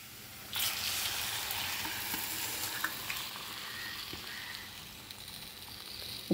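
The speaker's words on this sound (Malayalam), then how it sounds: "ഇനി ഇതിപ്പം നാരങ്ങ ഇട്ട് കൊടുക്കാം." Salted lemon pieces are added and stirred into a vinegar and spice pickle mix in a pan, raising a sudden steady hiss that continues with faint scrapes and ticks.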